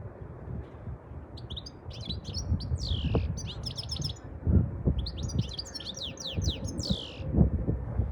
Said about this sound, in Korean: 되게 평소 우리가 듣던 새소리랑 좀 다르죠?